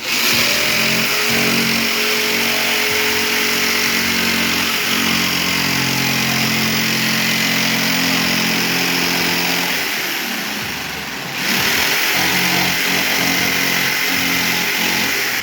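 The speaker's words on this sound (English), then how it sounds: "So I get my jigsaw here, and then we're gonna rough cut it." A jigsaw rough-cuts a template, giving a loud, steady motor whine that runs almost unbroken, dipping briefly near the end before resuming at full strength.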